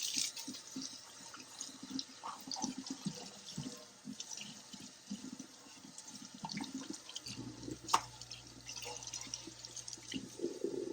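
Tap water running over a dirty container being washed in a sink, a soft steady splashing stream with small knocks and handling sounds, and a low hum appearing near the end.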